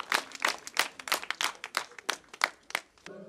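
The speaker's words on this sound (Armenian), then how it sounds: "եկեք ծափահարենք" Audience applause at the opening of a village club in Lusadzor: sharp, separate claps in a loose, uneven rhythm, close and fairly thin, as from a small group, fading out near the end.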